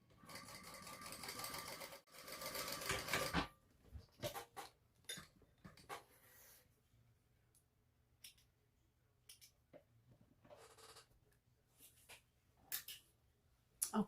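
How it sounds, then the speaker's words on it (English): Sewing machine double-stitching with heavy-duty dark brown polyester thread while making a sling bag, a quiet whirring run of a few seconds followed by short bursts of stitching, clicks and fabric handling. "so there we have the double stitching"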